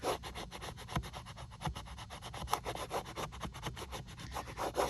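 A finger rubs over a transfer design, giving steady rhythmic dry rubbing strokes, close and fairly soft, repeated continuously without talk.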